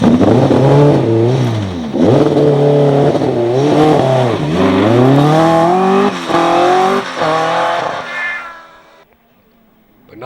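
Peugeot 306 Maxi rally car at a hairpin on the Jersey Rally, its engine revving up and down in a series of rising and falling bursts, loud and close, before cutting away to near silence at the end.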